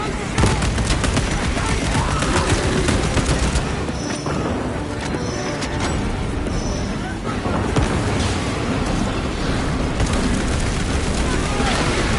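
Grenade blasts amid a dense battle in Space Marine 2, heavy explosions layered with rapid gunfire in a loud, continuous barrage, with voices calling out through the chaos.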